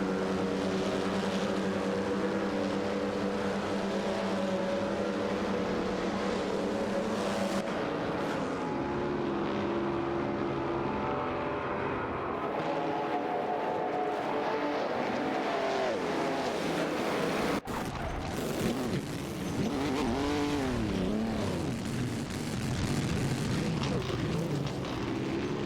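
Race cars in an AI racing video game roar steadily and loudly throughout, engine tones rising and falling as cars pass and shift, with a brief sweep near the end; no talking.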